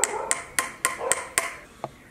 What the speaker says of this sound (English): you need to hit it into the top of your chosen stick using a hammer